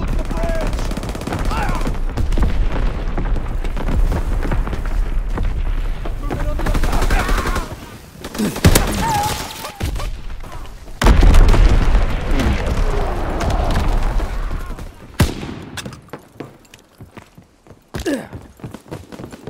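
A Call of Duty WWII artillery battery firing amid dense battlefield gunfire, heavy booms and crackling volleys loud and continuous, with a brief lull and scattered shots near the end.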